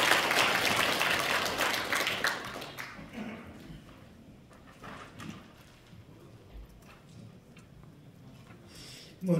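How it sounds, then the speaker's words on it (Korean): Applause from the audience at a Korean environmental volunteer award ceremony swells loudly at the start, then thins and fades over several seconds into scattered claps and quiet room noise. "박수 한번 부탁드리겠습니다"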